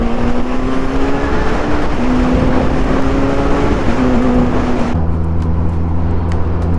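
A 2021 Suzuki GSX-S1000 motorcycle with a quickshifter pulls hard under riding, its engine note climbing steadily through the gears, then dropping to a steady lower drone, loud and close with wind rush and no talk.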